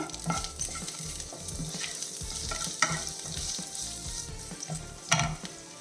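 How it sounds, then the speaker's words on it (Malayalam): Green chilies and sliced onion frying in hot oil for a chow chow dish, a steady close sizzle broken by repeated scraping stirs and a few sharper clanks, with no talk. "ഇതിൽ നമ്മൾ രണ്ട് പച്ചമുളകും ഒരു സവാള ഇതുപോലെ കട്ട് ചെയ്തിട്ട് കൊടുക്കുകയാണ്"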